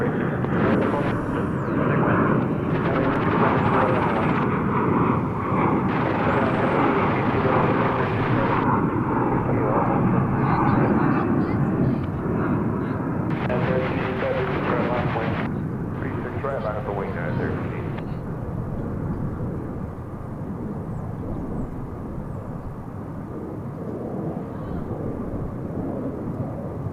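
An airliner takes off at DFW Airport with a continuous broad engine roar, overlaid by intermittent radio chatter from the control tower and a person talking in the foreground.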